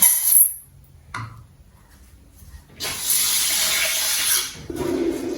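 Rice being rinsed in water for a Sri Lankan-style milk porridge, with running, splashing water in short bursts and a longer steady pour near the end, close by and alone.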